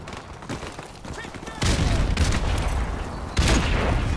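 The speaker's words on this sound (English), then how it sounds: "I died from an AK" Rapid AK rifle fire in Modern Warfare Remastered, sharp shots bursting loudly in clusters over steady game noise, with a voice speaking at times.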